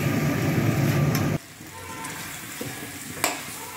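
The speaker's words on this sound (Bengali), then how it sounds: "এটা মিক্স করে ভালো করে এটা ভাজবো" Chicken being fried with a little Kashmiri chili powder for a chicken curry, giving a loud, steady sizzle for over a second before dropping to a quieter crackle with one brief stir or scrape near the end.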